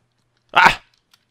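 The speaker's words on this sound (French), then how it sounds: "Il plein de chiens là." A single short bark from a dog in the Minecraft video game, one clear isolated yelp alone against silence.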